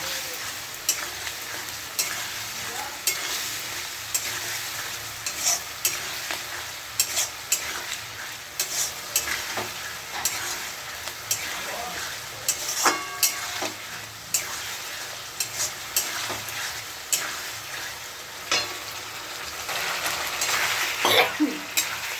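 Spice paste fried in oil hisses and crackles steadily while a spoon scrapes and knocks against the pan in repeated strokes, fairly close.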